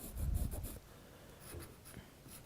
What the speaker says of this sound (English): I'm just going to use your white chalk pencil.